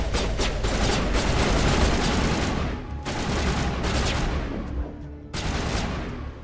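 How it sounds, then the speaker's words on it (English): Sustained enemy gunfire from the video game Mass Effect: loud, dense, overlapping volleys of shots that run almost without pause, with brief dips in intensity before the firing resumes. "Why is this guy shooting at us"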